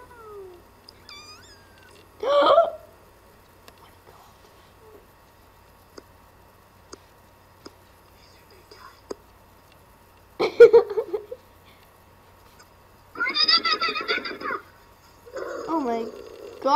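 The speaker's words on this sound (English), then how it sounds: "What's wrong with this cat?" A cat gives several short, strained meows spaced apart, loud and close, with quiet stretches between them.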